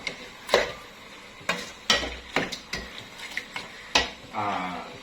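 A ladle stirring field rat curry (kaeng om) in a metal pot, a series of sharp close scrapes and knocks at an uneven rhythm, with a soft sizzle near the end.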